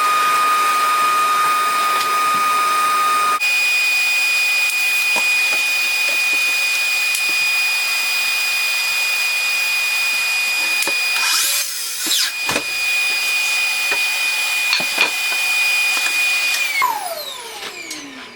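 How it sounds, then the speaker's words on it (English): A compact job site vacuum runs loud and close with a steady high whine throughout, joined by brief bursts of tool noise before the motor spins down at the end. "this is the compact job site vac"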